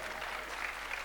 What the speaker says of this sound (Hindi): ये जितनी तालियां बजी हैं